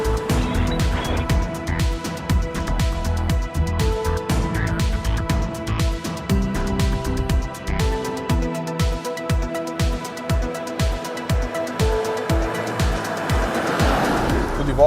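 A 2016 SsangYong Tivoli 1.6 e-XGi 2WD driving on the road, its engine a steady hum under continuous road and tyre noise, with a slightly nervous, fairly noisy suspension adding occasional thumps.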